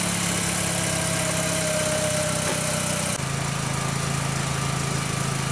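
VW engine with a cylinder 3 misfire history idling steadily, a continuous even engine drone with slight vibration, close and constant throughout.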